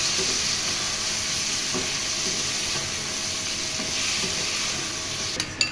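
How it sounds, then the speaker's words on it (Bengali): Fried eggplant stirred in a pan with softened onion for a sweet-sour-spicy begun dish, giving a steady, close, dense sizzle and hiss with faint stirring scrapes throughout and a small knock at the end. "এরপর আমি ভাজা বেগুনগুলোকে প্যানে ঢেলে দিয়ে নাড়াচাড়া করে"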